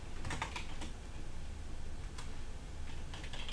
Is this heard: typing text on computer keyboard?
yes